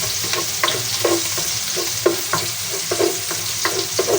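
Garlic fries in a pan with a loud, continuous sizzle, while a utensil stirs it in quick, regular scraping strokes close by.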